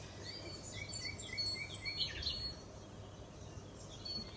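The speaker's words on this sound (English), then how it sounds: "Another one you could have with this one would be listening to bird sounds." Recorded bird song plays softly: scattered chirps and short whistled calls over a low steady hum, faint and continuous.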